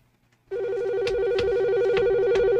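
After a moment of near silence, a telephone bursts into a loud, continuous electronic warbling ring that keeps going steadily to the end.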